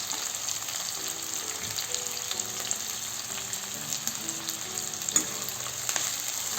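Onions and chopped chillies fry for a Marathi chavli bhaji, making a faint, steady sizzle with occasional soft stirring scrapes and light clinks against the pan, and no one talking.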